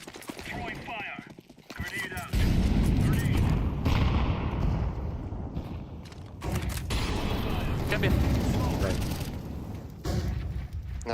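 A grenade blast and bursts of gunfire fill a competitive shooter match between Partizan and Eternal Fire, with dense, loud, crackling shots and rumbling explosions running almost continuously while players talk over the action.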